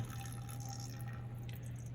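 Water trickles and drips faintly as it is poured slowly into a container of sand grains, a quiet, steady liquid sound over a constant low hum, with no talking.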